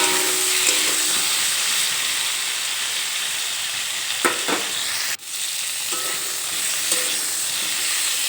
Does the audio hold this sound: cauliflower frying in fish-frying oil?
yes